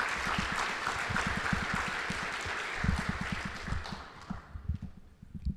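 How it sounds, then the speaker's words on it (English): Applause from the audience at an AI summit held by the Anaheim Union High School District, a dense round of clapping that carries on and then thins to a few scattered claps before fading out. "one more round of applause for Doug Chafee"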